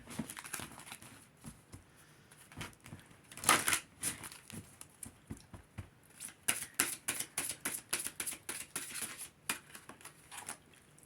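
Close, crisp riffling of a slightly stiff oracle card deck, with soft scattered taps at first, then a rapid run of rhythmic flicking shuffles toward the end.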